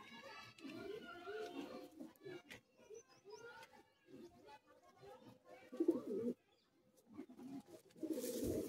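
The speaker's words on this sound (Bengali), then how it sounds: "ঘরেরই পায়রা" Domestic tournament pigeons coo nearby in repeated low, throaty phrases with short gaps between them, ending in a brief burst of rustling noise.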